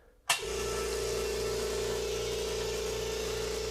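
A Stealth 20-gallon quiet air compressor kicks on with a sharp click and then hums steadily and evenly close by, with a constant motor drone and no talking.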